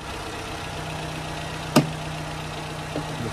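A car engine idles with the hood open during an air filter change. It gives a steady, even hum, broken by one sharp click partway through and a softer knock near the end.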